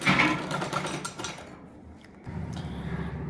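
A sewing machine stitches lace along the neckline of a kameez. A close, whirring run of stitches stops briefly, then resumes more softly.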